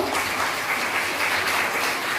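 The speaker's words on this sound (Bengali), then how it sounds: "সবাই হাততালি দাও" Audience at a girls' high school awareness program claps steadily, a dense even wash of many hands that holds at a constant level for a couple of seconds without pause.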